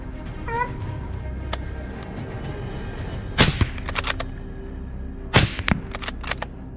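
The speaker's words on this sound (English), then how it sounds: "The wild boar charged at a very fast speed, but still could not escape my bronze bullet." Gunshots fired at charging invasive wild boar during a grassland hunt: two pairs of sharp, loud, close cracks a couple of seconds apart, standing out over steady outdoor background noise.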